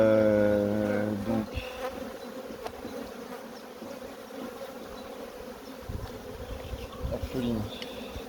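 Honeybees buzz around beehives in a steady dense hum, close and continuous, while someone speaks briefly in French at the start.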